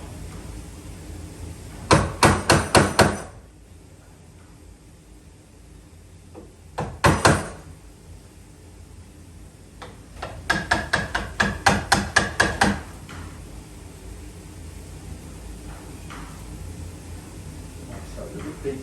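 A chisel is struck repeatedly with a hammer to cut a recess for a door lock faceplate, or fore-end plate: three bursts of sharp, rapid taps, close and loud, with quiet pauses between.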